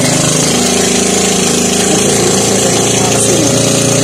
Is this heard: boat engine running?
yes